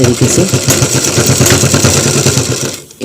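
A sewing machine runs steadily while stitching fabric for a single welt pocket, giving a fast, even mechanical chatter that carries without a break until a brief stop near the end.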